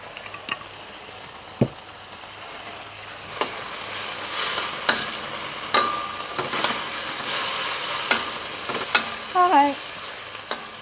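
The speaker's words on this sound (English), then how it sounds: "Continue to stir fry." Shrimp and luffa stir-frying in a pan under a soft, steady sizzle, broken by repeated scraping and clattering strokes of a spatula and a few metallic clinks.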